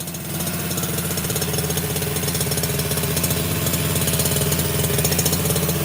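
Gas engine of a Redcat Rampage XR giant RC rally car idling, a loud close rapid putter with steady rhythmic pulses, no talk.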